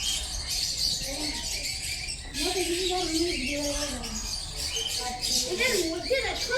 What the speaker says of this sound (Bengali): কিচকিচ করছে, মনে হচ্ছে ছোট ছোট পাখি আছে